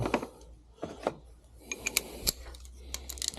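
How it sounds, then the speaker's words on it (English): A 10mm socket ratchets as two bolts come loose on a car starter motor's solenoid, with the starter held in a vise. Quick clicking ticks and small metallic taps sound close up, irregular and fairly quiet. "we're going to loosen the 2 bolts holding our solenoid in place"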